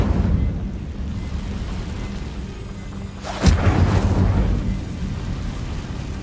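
Fire spell cast in Hogwarts Legacy, heard as a sudden loud whooshing burst that flares and rumbles over a steady game backdrop, with no speech.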